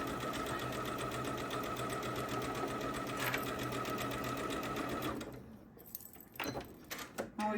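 A sewing machine stitches quilt fabric for a Japanese fabric shadow quilt, a fast steady mechanical whirring close by that stops after about five seconds, followed by handling clicks and fabric rustles.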